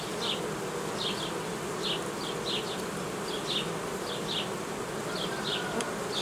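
A dense, steady hum of honeybees buzzing close by at a hive, with individual bees zipping past in short bursts over the constant drone.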